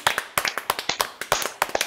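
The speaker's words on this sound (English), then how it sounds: "Round of applause for Corinne." A small group claps at a live food-range presentation, with sharp, somewhat sparse hand claps in an irregular rhythm, close and fairly loud, with no talking over them.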